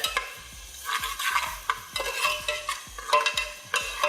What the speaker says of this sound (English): So we're frying it so it can dry up a little more.